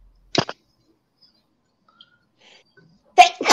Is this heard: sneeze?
yes